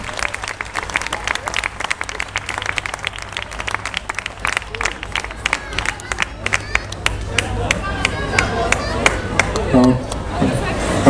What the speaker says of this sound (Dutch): daverend applaus voor de kindjes die juist gestart zijn.